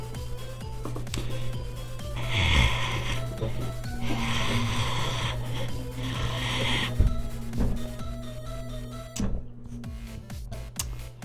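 A voice imitates a slow, heavy breathing noise, a run of loud, raspy snore-like breaths repeating in a steady rhythm over a steady low hum.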